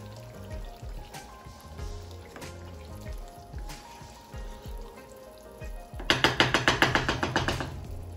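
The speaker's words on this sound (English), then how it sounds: "I'm gonna give it that stir, combining everything together" Franks and beans with added water are stirred in a pot: a soft background of low scrapes and bubbling, then a run of quick, rhythmic spoon knocks and clatters near the end.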